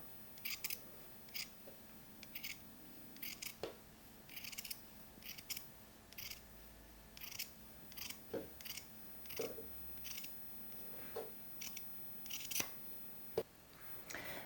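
Fabric scissors trimming a sewn seam allowance on a vest, a series of quiet crisp snips in short irregular bursts with faint clicks and knocks between them, close and soft, no talking.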